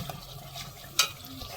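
Spice paste for a jackfruit curry sautés over a medium-high flame, giving a soft, low sizzle with faint stirring scrapes and one brief sharp utensil clink partway through.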